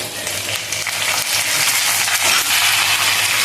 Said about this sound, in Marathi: मिरची अगोदर टाकल्यानंतर मग आपण कढीपत्ता घालूया